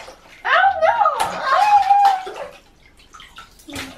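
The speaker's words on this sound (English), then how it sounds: "well, don't flick water everywhere." A child splashes and flicks water in a bathtub in short, close bursts of sloshing. An adult talks over the splashing, with some laughter mixed in.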